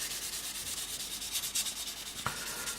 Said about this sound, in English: go on to a very, very fine soft sanding sponge with no pressure at all, and all we're doing is actually polishing it